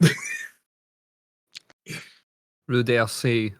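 A single short, sharp sneeze, close by, set between brief bits of speech from a person talking.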